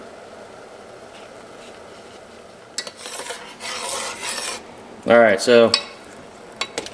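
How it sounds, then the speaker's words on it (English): Maple syrup boiling down in a pan gives a steady, close bubbling rush that swells for a couple of seconds, followed by someone speaking briefly. "it's starting to boil up"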